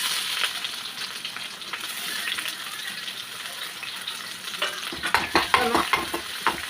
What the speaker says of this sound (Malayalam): നല്ലപോലെ ഒന്ന് വറുക്കാം, ഒന്ന് മൊഴിയട്ടെ.